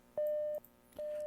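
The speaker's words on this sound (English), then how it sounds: "So we could hear the Morse traffic coming in." Encrypted Morse code traffic comes over a radio in a video game as clean electronic beeps, one long tone followed by a second starting near the end, alone and fairly clear.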